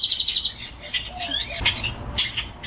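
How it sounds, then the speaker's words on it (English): Loud birds chirp and squawk close by outdoors, starting with a quick run of sharp repeated tweets and followed by scattered calls and squawks. "Those birds are so loud."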